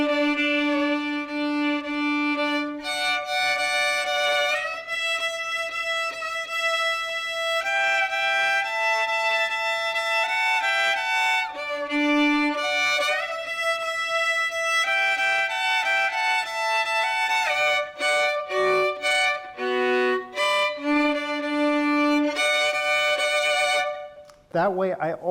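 A violin plays slow, sustained notes paired with a steady ringing open-string drone, the pitches shifting step by step and ending in a brief pause.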